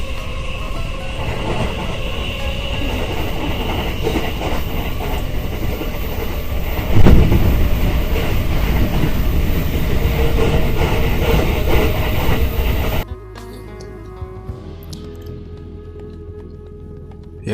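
Rumble and clickety-clack of a moving commuter train in Tokyo, heard steadily from inside the carriage for about thirteen seconds before the noise drops to a quieter hum as the train slows.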